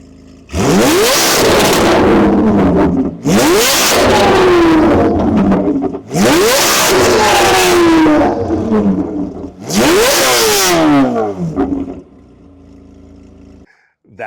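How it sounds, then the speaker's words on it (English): A straight-piped Chevrolet Corvette C8 Z06 engine revs hard four times in a row, each loud blast rising and falling with pops, then settling to a quieter idle near the end. "That was a Z06 right there, and that thing is so freaking loud."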